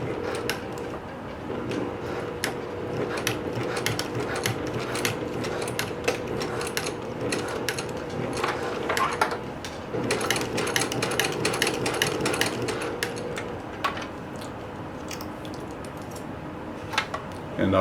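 A sewing machine fitted with a walking foot stitches stretch fabric for pants, running in steady mechanical bursts with rapid ticking clatter, pausing briefly midway before resuming, close and moderately loud.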